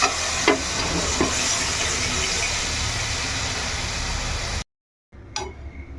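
Boiled vegetables drop into spiced masala frying in oil for a light Bengali fish curry, giving a continuous loud sizzle and hiss with a few stirring scrapes, then a short silence and a renewed sizzle.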